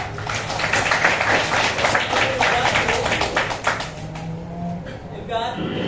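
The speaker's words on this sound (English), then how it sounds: "A round of applause." Classroom applause from a group of students, a burst of many overlapping claps that is loud and close at first and then tapers off, with voices talking over it.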